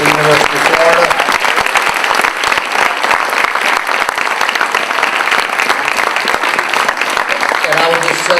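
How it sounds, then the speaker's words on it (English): An audience at a school signing event claps steadily for an athlete committing to the University of Florida, a sustained round of applause with faint voices at the start and end. "So if everyone can give Harry a round of applause for signing with the University of Florida."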